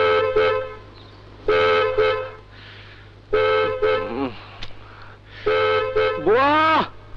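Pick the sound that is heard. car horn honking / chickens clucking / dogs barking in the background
car horn honking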